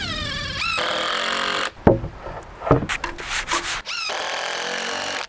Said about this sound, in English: Just gonna drive a quick screw in it to hold it in place.